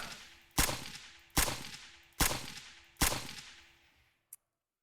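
Five sharp gunshots from a new gun in Surroundead, evenly spaced about a second apart, each a loud crack with a decaying tail, the last shot much fainter and clipped short before silence.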